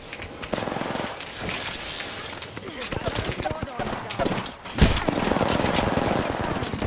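Rapid video game gunfire rattles in sustained bursts and single shots, loud and continuous, with players talking excitedly over the shooting.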